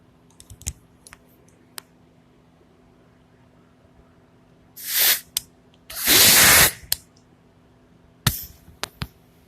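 An air chuck blows compressed air to clean out an air filter: two loud hissing bursts, one short and one longer, among scattered clicks and handling taps in a quiet workshop.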